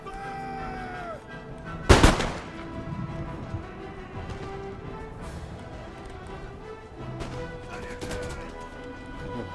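Soldiers fire muskets in Empire Total War, one loud, sharp volley crashing out early, then scattered fainter shots at intervals over a low battlefield background.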